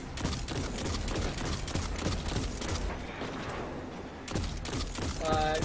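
Gunfire in the video game Destiny while shooting at snipers, with dense bursts of rapid shots and mechanical clatter, loud and continuous, easing briefly before resuming and mixed with faint in-game sound effects.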